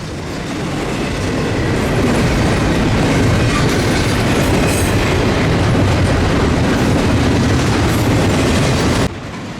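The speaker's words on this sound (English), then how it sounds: "You definitely hear a second train in the background" A Louisiana Northwest Railroad train rolls through a small town with a steady, loud rumble and clickety-clack of wheels over rail joints, close and continuous, with faint wheel squeal; the noise drops slightly near the end.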